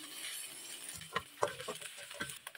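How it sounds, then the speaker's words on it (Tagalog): Onion and garlic sauté in oil in a pan for pinakbet, giving a soft, quiet sizzle with a few light clinks and scrapes of a utensil partway through. "Maglalagay na tayo ng mantika at magigisa-gisa na tayo ng sibuyas."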